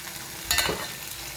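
Potatoes frying in a tomato masala give a soft, steady sizzle, with a brief stirring scrape near the middle of the short stretch.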